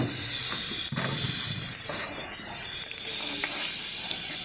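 Food sizzling in a pan while being stirred, steady frying hiss with scraping and clinking of a utensil against the pan in irregular strokes.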